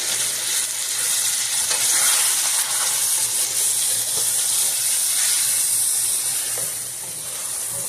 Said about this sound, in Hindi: अब इसमें टमाटर, हरी मिर्च और ये जो ड्राई आलू बुखारा और इमली जो है वो इसमें डालेंगे। और इसको अच्छी तरह हमने मिक्स करना है।